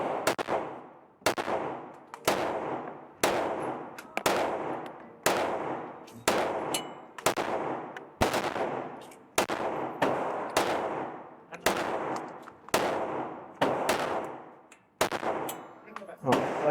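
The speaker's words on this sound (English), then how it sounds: "I'm gonna shoot another 15 shots at 7 yards" A new Glock pistol fires at a target 7 yards away, about fifteen sharp, loud shots at a steady pace of roughly one per second, each ringing out and decaying before the next.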